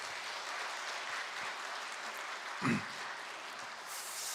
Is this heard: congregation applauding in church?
yes